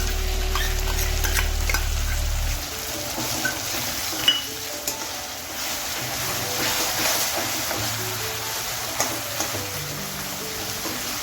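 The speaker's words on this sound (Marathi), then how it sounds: "हे चांगलं आता तेल सुटेपर्यंत चांगलं परतून घ्यायचं आपल्याला टॉमॅटो माऊ होईपर्यंत" Onion, tomato and ground spice paste sizzle in hot oil for a soybean curry, with a steady frying hiss and intermittent scraping clicks of stirring; a low rumble fades out early on, and no one speaks.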